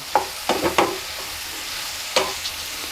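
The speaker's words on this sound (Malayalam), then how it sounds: "എല്ലാം കൂടി ചേർത്തിട്ട് വഴറ്റി കൊടുക്കുക" Onions and ginger-garlic paste being sautéed in a pan for pepper chicken, with a few sharp stirring scrapes and clatters over a soft, steady sizzle, close up and without talk.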